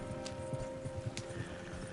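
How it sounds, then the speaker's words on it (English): Horses galloping fast, hooves clip-clopping in a rapid irregular rhythm, faint and distant beneath a steady background rumble. "Horses won't go this fast for long."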